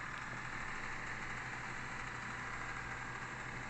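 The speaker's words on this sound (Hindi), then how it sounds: "ये 40 kVA की रेटिंग में टर्बो के साथ हमारा इंजन ऑपरेट है। इस टाइम ये वर्किंग कंडीशन में है।" A 40 kVA generator's 1103T turbo diesel engine runs steadily at close range, a constant broadband drone and rumble with no change across the whole stretch.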